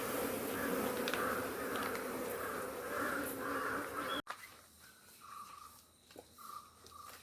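Honeybees at a hive in a Kerala apiary hum in a steady, faint drone, with occasional louder buzzes drifting past and a crow cawing in the background.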